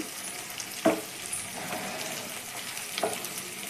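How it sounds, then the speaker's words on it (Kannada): Washed cabbage stir-fried with fried onion and curry leaves for a palya, a faint continuous sizzle broken by a couple of sharper spatula scrapes and clacks in the pan, nearby. "ಕ್ಯಾಬೇಜ್ನ ಕ್ಲೀನಾಗಿ ತೊಳೆದ್ಬಿಟ್ಟು ಇಟ್ಕೊಂಡಿದ್ದೀನಿ ಅದನ್ನು ಇವಾಗ ಸೇರಿಸ್ಕೊತಾ ಇದ್ದೀನಿ ಕ್ಲೀನಾಗಿ ಒಂದ್ಸಲಿ ಎಲ್ಲ ಮಿಕ್ಸ್ ಮಾಡ್ಕೊಳ್ಳಿ"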